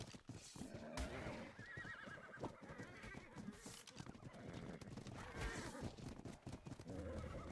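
Horses in the survival game ARK neigh and whinny while hooves clip-clop steadily underneath, a busy, continuous layer of animal noise running the whole stretch with a voice briefly mixed in.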